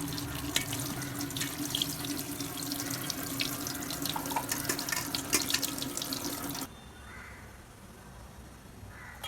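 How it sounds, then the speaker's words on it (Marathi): Dill greens are rinsed under a running kitchen tap, a steady hiss and splash of water with light crackle, which cuts off abruptly, leaving a quiet room with faint crow caws in the background. "शेपू अशी खळा धुवून घ्यायची पाण्याखाली."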